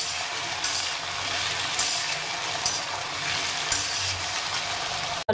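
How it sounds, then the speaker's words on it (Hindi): Potato and cauliflower fry in a pan, giving a steady, fairly loud sizzle with occasional stirring scrapes and a sharp clunk right at the end, with no talking. "आलू गोभी को मैं करूँगी फ्राई, तब तक जब तक कि आलू गोभी में गोल्डन सी लेयर नहीं आ जाती"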